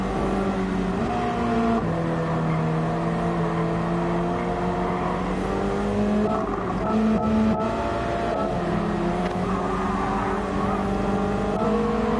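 A Subaru BRZ race car in Gran Turismo 7 racing at Big Willow: a loud, continuous engine drone rising and falling with gear shifts and revs, with other cars' engines blended in, no talking.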